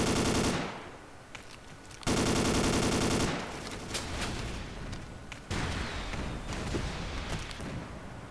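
Gunfire in the Ace of Spades video game: loud, rapid automatic bursts rattle in several long strings with short gaps between, dense and close, with no talking.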